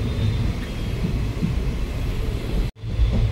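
A passenger train on the Hyderabad to Goa route rolling along, a steady low rumble and rattle heard from inside the coach, with a brief sharp cut near the end before the rumble resumes.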